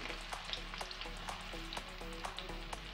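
Chopped garlic and onion fry in refined oil in a pan, giving a quiet, steady sizzle with small pops and light stirring clicks, close and faint.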